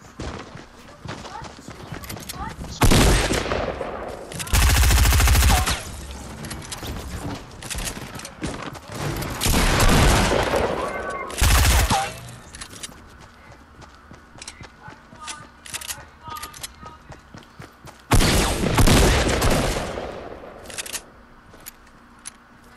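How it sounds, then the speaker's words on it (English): Bursts of rapid gunfire in the Wild West mode of Fortnite Battle Royale, loud and dense in several volleys a few seconds long, separated by quieter stretches of ticking game sounds. "Who is shooting at me?"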